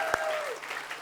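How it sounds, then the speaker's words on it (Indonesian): Short burst of applause from a studio audience at a comedy show, a single sharp clap over a soft crowd wash, moderately loud and brief. "Oke, tepuk tangan dong."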